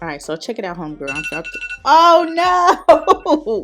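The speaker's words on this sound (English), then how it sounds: "that was my alarm" A phone alarm's electronic ringing tones sound behind someone talking, who then exclaims in surprise as the ringing continues.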